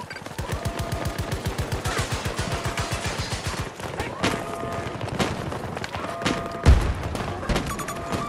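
Rapid automatic gunfire from an M416 rifle in a tactical shooter game fires in steady bursts, loud and close, with heavier thumps and a lone sharp shot later, while a voice talks faintly underneath.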